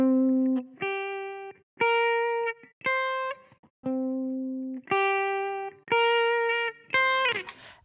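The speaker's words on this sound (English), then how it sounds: "ostinato pattern repeated over and over again. It sounds like this." Lake Cavern theme from the Pokémon Diamond and Pearl video game: a short synth ostinato figure repeating stubbornly, rising and falling tones in separate phrases, with a brighter flourish at the end, no talking.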